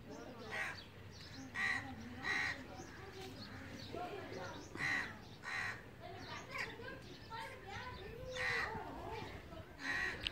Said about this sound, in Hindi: बहुत ज़्यादा कौवे हैं।